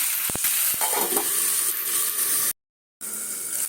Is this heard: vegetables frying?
yes